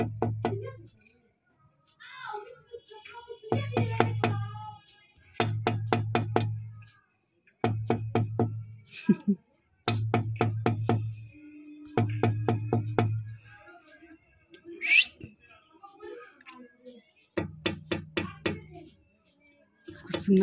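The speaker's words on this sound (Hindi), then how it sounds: "मैं नॉक करती हूँ" Knuckles rap repeatedly on a door in a series of loud, close bursts of quick knocks, each group separated by short pauses across a long stretch, with a little speech in between.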